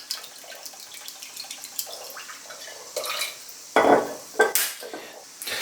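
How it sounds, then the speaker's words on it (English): Fish sauce is poured into a pot of water for a hot and sour soup, giving a few short, close liquid splashes and trickles that grow louder toward the end, with no talking. "we're going to add about 1/4 cup of fish sauce to our water"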